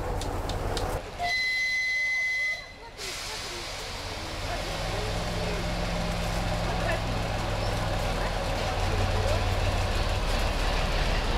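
A narrow-gauge diesel train on the Apsheronsk forest railway pulls away, its low engine drone and rolling wheels building steadily after a short burst of station noise and a faint voice.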